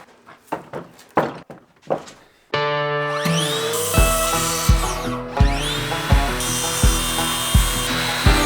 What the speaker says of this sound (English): Quite disturbing all this clamping, but Menno knows what he's doing.